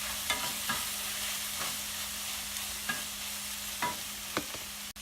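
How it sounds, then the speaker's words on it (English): Shrimp cutlet filling sautés in a pan with a steady, gentle sizzle, broken by repeated scraping clicks as a utensil stirs it every second or so, close and without talk. "let this saute for another 5 minutes"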